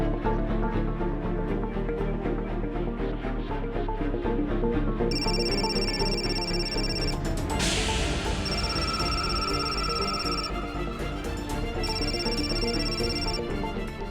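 A phone rings late at night indoors, a steady electronic ringtone pattern repeating in bursts over a constant background hum, with no one speaking.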